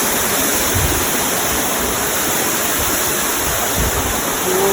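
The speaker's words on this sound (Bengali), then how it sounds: "ঝর্ণাটা দুর্দান্ত লাগছে এখান থেকে ঝর্ণাটা।" A waterfall at a Ghatsila tourist spot gives a continuous, loud rushing roar of falling water, steady and close, with no voices.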